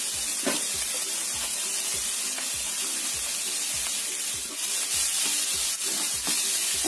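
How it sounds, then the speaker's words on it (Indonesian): Onion and carrot fry in a hot pan with a steady, close hiss of sizzling, broken by regular soft scrapes of stirring. "Setelah panas, kita masukkan bawang bombaynya. Kita tunggu sampai layu atau matang. Aku tambahkan wortelnya sekalian."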